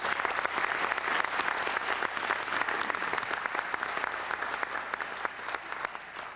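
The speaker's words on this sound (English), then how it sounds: "Please give them a warm round of applause." Warm, sustained applause from a large audience at an international conference awards ceremony, steady clapping throughout with no pauses.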